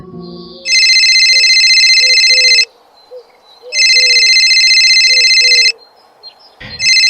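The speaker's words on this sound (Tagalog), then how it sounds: "may tumatawag yata sa cellphone mo." A phone rings in two long bursts of electronic trilling, loud and close, separated by a short pause, with faint chirping underneath.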